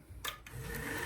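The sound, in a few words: sanding hog splitter part with 400 grit sandpaper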